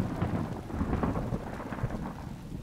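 Thunder rumbles low and continuous with steady rain in a desert storm, a dense, loud wash of noise holding without pause.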